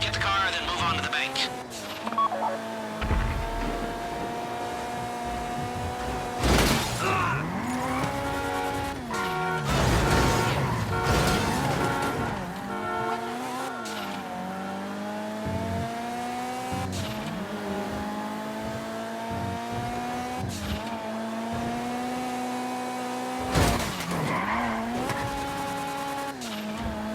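A car being driven in the video game Grand Theft Auto V, with an engine revving and rising in pitch and a few sharp tire squeals, heard under steady talk from in-game characters.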